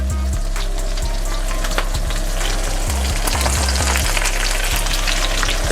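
Peppers and onions fry in a stovetop pan alongside salmon fillets, giving a steady close sizzle with scattered crackles and pops and no talking.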